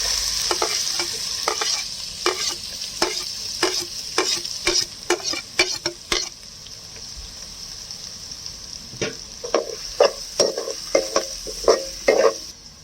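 Finely chopped onion sautéing in a pan for a paneer masala dosa, with a quiet sizzle under repeated sharp spatula strikes and scrapes in bursts, then a pause and another run of stirring.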